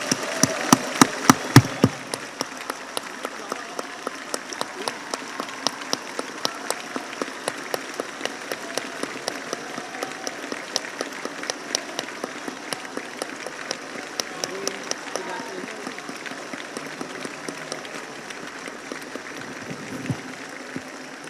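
At the Indonesian presidential inauguration, the assembly in the MPR chamber breaks into a burst of applause that quickly thins into rhythmic, unison clapping in a steady beat, continuing for about twenty seconds before fading.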